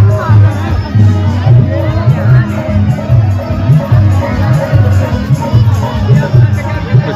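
Dense crowd hubbub at a Kali Puja fair in Varanasi, with loud continuous babble, scattered shouts and children's voices over low rumbling fair noise, steady throughout.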